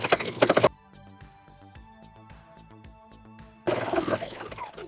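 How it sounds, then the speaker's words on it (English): An overlock serger stitching a circle of scrap fabric for an infinity scarf, heard as two loud, fast buzzing bursts at the start and end, with a quieter steady stretch in between. "Now we're going to serge this circle together"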